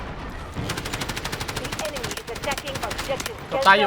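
Automatic gunfire in the video game Delta Force, a long rapid stream of evenly spaced shots fired at a distant target, loud and close, with someone speaking over it.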